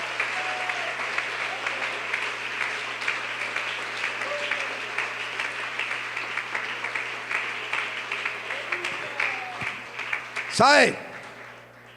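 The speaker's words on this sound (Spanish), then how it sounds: "Un aplauso para ese Dios tan grande." A church congregation claps steadily in sustained applause throughout, with a brief voice near the end.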